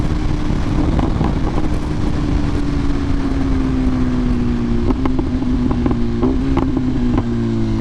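A 2023 BMW S1000RR motorcycle engine while riding, loud and close, its pitch rising steadily through a gear, then a few quick revs and shifts near the end over buffeting wind.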